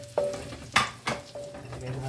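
Red onions dropped into a frying pan with buttered shrimp, a quiet sizzle broken by a few short stirring scrapes, close and brief.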